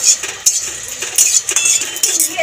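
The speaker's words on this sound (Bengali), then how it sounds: "একসাথে করে সব নেড়ে ছেড়ে ভেজে দেবো।" A utensil scrapes and clinks against an empty kadai as whole cumin and coriander are stirred and dry-roasted, irregular metallic taps and scrapes close by.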